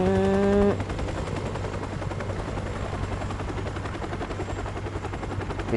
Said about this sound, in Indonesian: The heli's moving away.